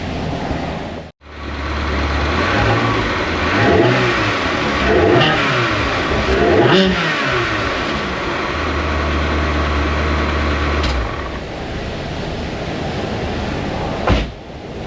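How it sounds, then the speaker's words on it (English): A car engine in an auto repair shop starts after a brief pause, then revs up and down in several rising and falling sweeps before settling into a steady idle, loud and close with no talking. "We'll fire it up again with the oil cap on it though, so it doesn't get sad."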